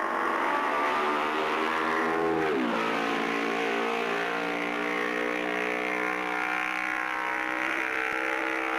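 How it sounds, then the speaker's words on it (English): A Triton racing motorcycle with a misfiring engine drones loudly and continuously, its pitch sliding and wavering as it passes during a 1978 classic road race. "Albert Haddock's Triton misfiring"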